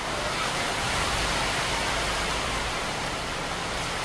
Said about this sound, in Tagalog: Naulan guys, sobra.